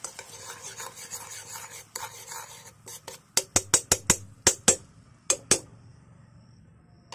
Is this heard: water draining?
no